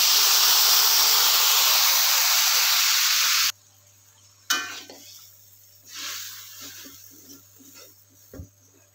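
Spice paste stir-fried in reused cooking oil, a loud sizzling hiss that cuts off suddenly, followed by quieter crackles and scraping stirring sounds.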